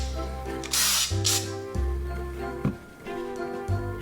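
An aerosol can of imitation snow sprays onto small gift ornaments on a Christmas tree, two short hissing bursts near the start, followed by low hums and light handling noises close to the microphone.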